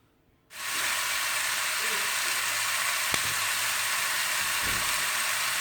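After a quiet moment, a loud sizzling hiss starts abruptly as marinated chicken pieces are laid skin-side down in a pan, holding steady, with a few faint clinks under the frying.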